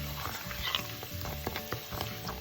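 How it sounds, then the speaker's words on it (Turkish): Stuffing filling for stuffed eggplant and zucchini sautéed in a pan, with a steady sizzle broken by repeated scrapes and clacks of a spoon stirring, close and moderately loud, with no talking. "Şimdi bunu böyle güzelce kavurayım. Bir dakika kavurayım."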